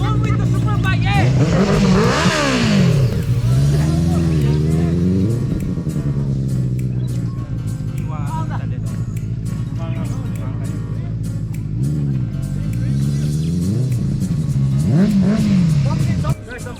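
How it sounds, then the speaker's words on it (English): A Honda CBR superbike engine revs hard and close, rising and falling in repeated throttle sweeps at an outdoor bikers' meet in Manipur, North East India, loud throughout with voices faintly underneath. "So guys, I'm gonna drive a CBR now."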